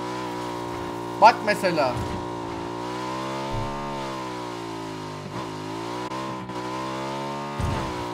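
A motorbike engine in PUBG holds a steady droning rev with pitch dips and rises as it shifts, close and continuous, while someone talks briefly over it and a few sharp knocks sound.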